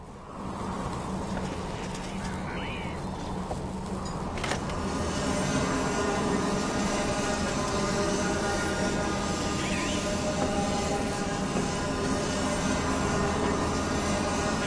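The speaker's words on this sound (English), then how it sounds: "Let's test the thrusters to see if my upgrades did the trick." Thrusters on a speeder in the Disney Infinity 3.0 Star Wars game, a steady loud engine roar that swells slightly after the opening seconds and holds without a break.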